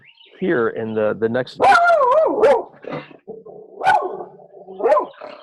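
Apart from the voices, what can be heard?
dog Amber barking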